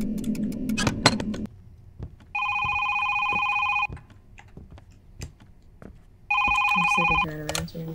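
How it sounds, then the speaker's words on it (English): A telephone in the horror game Is Simon There? rings in two long electronic bursts, separated by clicks, key taps and quiet rustling. "I'm sick of trying to answer these phone calls."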